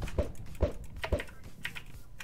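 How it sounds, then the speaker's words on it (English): Close typing on a computer keyboard during a Minecraft Survival Games session, several firm keystrokes in quick bursts with a few lighter clicks trailing off, no voices. "Man, I really love this keyboard."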